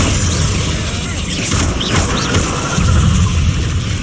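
A Confringo fire spell explodes in Hogwarts Legacy, a booming blast inside a dense, continuous wash of combat noise, with a voice in the mix.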